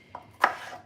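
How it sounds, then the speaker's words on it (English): Potatoes being chopped with a knife on a board, two quick crisp cuts, the second louder, close up and alone. "I'll chop the potatoes up as I'm cutting up the potatoes."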